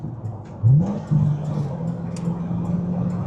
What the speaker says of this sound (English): Give you guys some downshifts